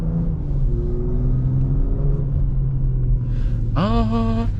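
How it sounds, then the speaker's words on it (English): A car with a catless downpipe and full exhaust rumbles low while driving, then a rising whistling whine of turbo spool climbs sharply near the end over the droning engine, close and loud. "But I know y'all can hear that turbo spool"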